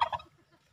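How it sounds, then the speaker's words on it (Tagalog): Turkeys at a fishpond give a short, faint gobbling burst at the start, then quiet background, with no one talking. "Yan yung mga pabo mga kaibigan, nanunugod."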